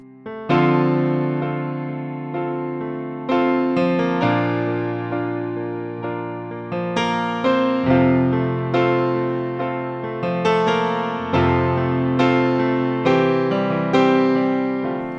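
Piano chords from a song (live version), struck one after another in a slow, steady progression, each ringing out and decaying before the next, close and full.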